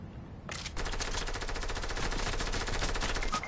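Sustained rapid automatic gunfire from an enemy shooting at the player in a first-person shooter video game, a loud continuous burst of rattling shots starting abruptly and running without pause to the end.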